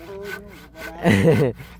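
A hand saw grinding through wood during house roof framing, a few lighter strokes followed by one longer, louder rasping pull up close.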